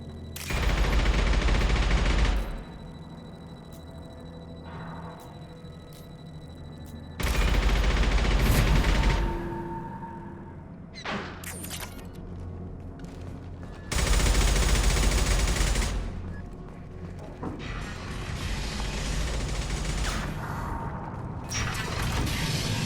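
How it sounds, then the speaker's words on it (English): Bursts of rapid gunfire from Mass Effect 2 on the Omega station fight, with loud volleys recurring every few seconds between quieter stretches of clicks, mechanical ratcheting and whizzing rounds. "Although I hear bullets whizzing by me."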